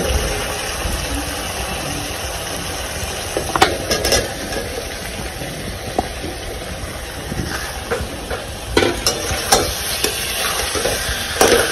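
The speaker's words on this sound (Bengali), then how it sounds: "মশলা আমার কষানো হয়ে গেছে, এর মধ্যে আমি ইঁচড়টা দিয়ে দিব।" Jackfruit stir-fried into a thick spiced gravy for a jackfruit-prawn curry, a continuous loud sizzle with intermittent sharp spatula scrapes and clanks on the pan, no speech.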